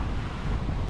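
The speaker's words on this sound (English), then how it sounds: "It's very windy here." Gusty wind buffets the microphone, producing a continuous low rumbling roar with no voices.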